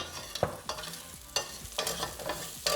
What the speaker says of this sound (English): once the garlic starts getting a little bit golden brown color, like right here